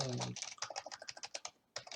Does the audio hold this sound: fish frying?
no